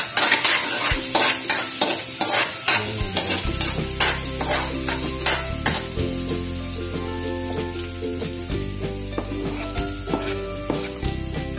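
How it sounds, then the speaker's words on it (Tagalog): Ginger sautéing in hot oil in a pan at an outdoor backyard cooking spot, loud crackling sizzle with repeated sharp stirring scrapes and clatter, close and continuous. "So gisa na tayo ng luya muna."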